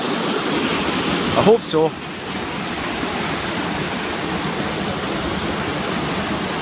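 Cotter Force waterfall pours in a steady, full broadband roar that fills the whole scene, with a brief voice and a short handling bump breaking in near the start.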